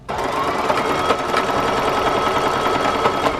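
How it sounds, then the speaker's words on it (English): A sewing machine runs a continuous top stitch across two pieces of fabric for a book or tablet sleeve, a loud, close, even motor whir with a rapid needle patter throughout. "sew a top stitch right there for both pieces of fabric"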